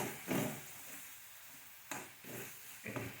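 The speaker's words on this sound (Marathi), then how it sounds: "व्यवस्थित हलवून घ्यायचं एकदा" Masala being stirred into banana flower vegetable in a pan: three short scraping, rustling strokes over a faint sizzle, close and quiet with no talk.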